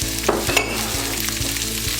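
Onions and garlic sizzle loudly in a pan for a balsamic onion and mushroom sauce beside a tomahawk ribeye, a close, continuous hiss broken by a few light stirring scrapes.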